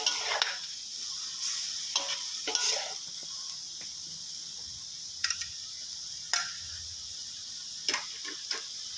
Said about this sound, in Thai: ค่อย ๆ คนไปนะครับ ผัดไปเรื่อย ๆ นะครับ